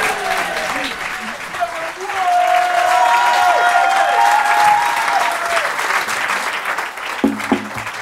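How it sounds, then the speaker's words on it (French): An audience applauds steadily for several seconds to welcome a speaker at an evening talk, a dense sustained wash of clapping with a faint voice or tone threaded through it, thinning near the end as a few louder hits stand out. "On vous demande d'applaudir avec nous"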